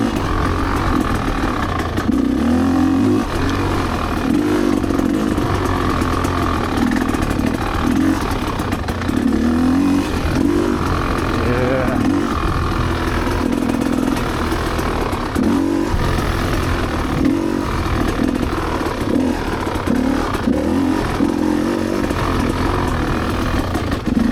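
Close, continuous engine drone from a Rieju MRPro 300 motorcycle on a wooded trail, with repeated throttle blips and rev surges as it works through turns.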